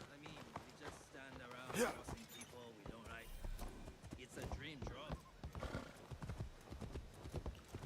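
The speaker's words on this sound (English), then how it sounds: "We need to get the horse." Horse hooves clip-clop in a steady rhythm with an occasional whinny in the video game Assassin's Creed Shadows, mixed under lively overlapping voices of people talking.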